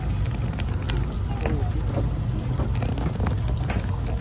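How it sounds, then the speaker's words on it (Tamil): An open wooden abra boat motors across Dubai Creek toward Meena Bazaar, its engine rumbling low beneath steady wind buffeting the microphone. Scattered knocks and splashes cut through, and muffled voices are heard nearby. "இதுலேருந்து இப்போ நம்ம ஓப்பன் போட்டில் மீனா பஜார் போகிறோம்."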